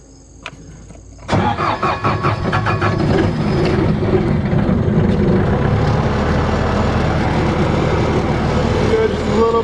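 A Bobcat 873 skid steer's diesel engine cranks briefly and catches, then settles into a loud, steady, rumbling idle up close.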